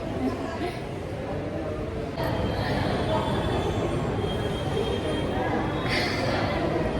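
A metro train rumbles steadily with loud wheel and track noise throughout, brief screeching squeals rising now and then, and faint chatter underneath.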